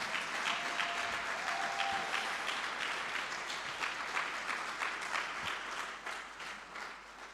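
A church congregation applauds steadily for several seconds, a dense wash of clapping that slowly thins and fades toward the end.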